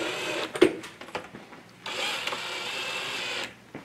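A power screwdriver driving screws into a Bosch dishwasher door gives a faint click and rattle, then one sustained motor whir lasting over a second before it stops.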